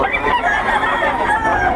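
Chickens clucking close by, continuous busy fowl sounds through the short clip with no other noise.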